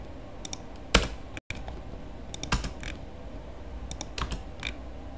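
Sharp keystrokes on a computer keyboard, including Enter presses, come as a few isolated clicks with one louder tap near the start and scattered lighter taps later, close and clear against a quiet room.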